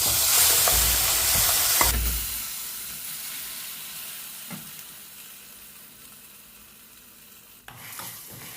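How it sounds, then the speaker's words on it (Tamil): Ground moong dal paste with curry leaves sautés in a pan, starting with a loud hissing sizzle and stirring scrapes, then settling into a quieter steady sizzle before a final burst of frying. "இது ஒரு 2 நிமிஷம் நல்லா வதக்கி விட்டுக்குங்க."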